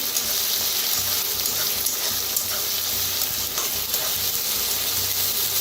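Onion, curry leaves, green chilli and garlic roast in a hot pan while pithla is made, giving a steady, close frying hiss with faint stirring scrapes throughout and no one speaking.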